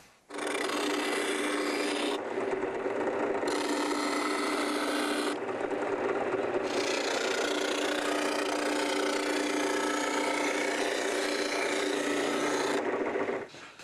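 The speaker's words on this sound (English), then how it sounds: "I've got a little spindle sander I'm going to put in there, and I'm going to sand this" A continuous abrasive rasp of a spindle sander mounted in a drill press grinding a wood mold template up to a profile line, close and loud, with brief shifts in tone as the workpiece is moved.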